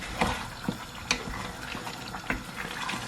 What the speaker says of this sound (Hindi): थोड़ा फ्लेम को हाई कर देंगे, अच्छे से मिक्स करेंगे